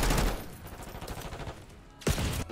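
Gunfire in the Call of Duty Black Ops 6 video game, a rapid fusillade of close, loud shots with a sharp extra burst near the end.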